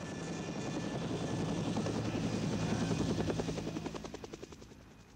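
A helicopter roars steadily nearby, its rotor chop building into loud rhythmic pulses that thin out and fade toward the end, with no voices.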